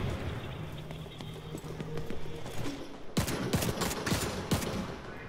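Rapid gunfire from a weapon in The Division 2 crackles in quick bursts, sparse at first and then a dense close run of shots near the end, fairly quiet overall.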